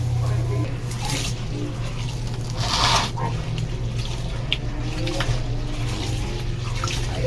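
Glutinous rice being rinsed in water for biko, a soft wash of sloshing and trickling water with a brief louder splash, under a steady low hum and background speech.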